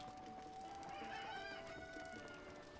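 Cucco chickens in The Legend of Zelda: Breath of the Wild cluck and crow near a riverside stable, quiet repeated bird calls over a faint steady background with no talk.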